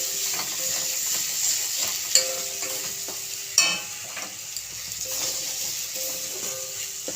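Masala with Kashmiri chilli powder sizzling and frying steadily in a pan, with a spoon stirring and scraping through it and a couple of sharper clinks against the metal.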